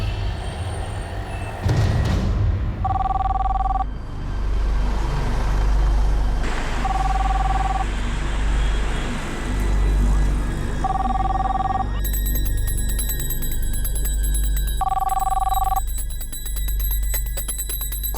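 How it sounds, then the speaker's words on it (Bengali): A landline telephone rings in short repeated double-tone bursts, four rings spaced evenly over a steady low hum, clear and fairly loud with no voices. "ল্যান্ডলাইনে এসেছে মা, আমার ফোন তো হতেই পারে না"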